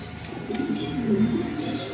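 Pigeons cooing at a pigeon shop in Kolaghat, West Bengal, soft low murmuring coos close by over a couple of seconds amid faint background noise.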